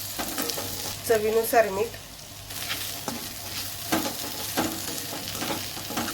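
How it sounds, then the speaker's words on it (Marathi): Roasted okra stirred into masala in a pan, a close steady sizzle with soft stirring scrapes, and a short stretch of speech near the start. "त्यामध्ये आपण भाजलेली भेंडी टाकूया आणि मिक्स करून घेऊ."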